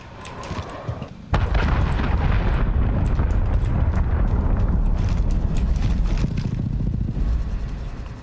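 A cruise missile strike in Call of Duty Modern Warfare, with a brief noise before a heavy, sustained explosive roar that stays loud and rumbling for several seconds.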